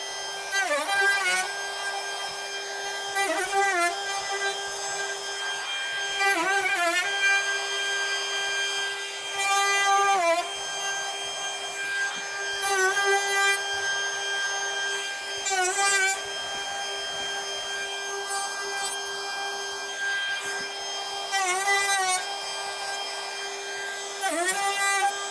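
A router fitted with a mortising bit cuts a mortise in a wooden door jamb against a template, a sustained high whine with repeated short dips and swoops as it is moved through each pass.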